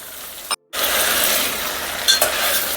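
Potatoes, peas and green chillies going into a hot pan for vegetable pulao, a loud steady sizzle with a brief gap and a few clinks near the end.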